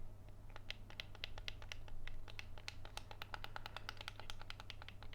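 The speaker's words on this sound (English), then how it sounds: "Listen, you can hear the click." Rapid, crisp plastic clicks from the buttons of a cheap $40 Nintendo Switch Lite console pressed repeatedly up close, with a soft steady hum beneath.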